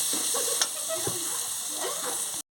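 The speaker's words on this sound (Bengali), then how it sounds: "মশলাটাকে পুরো ভালো করে ভাজতে হবে, না হলে কাঁচা গন্ধ ছাড়বে।" Spice paste frying in oil for a bata fish masala curry makes a steady, close hissing sizzle with a few faint clinks, then cuts off abruptly.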